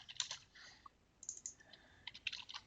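Quiet, close typing on a computer keyboard: irregular bursts of light key clicks with short pauses between them, no voices.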